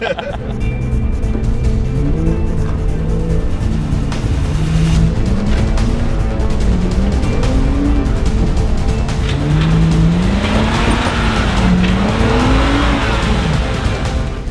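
Jeep Gladiator engine revving hard on a rough off-road trail, pitch rising and falling in repeated surges over a constant loud drone, with jolts and rattles near the end.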